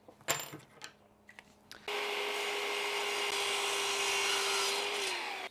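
A pen blank tube is cut to size on a power saw at a maker's workshop event, with a few short knocks and handling noises first, then a steady loud sawing drone held for several seconds before it cuts off.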